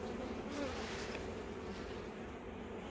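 Bees buzzing around an opened beehive, a steady close insect drone with a few individual bees circling and defending, continuous and fairly loud throughout.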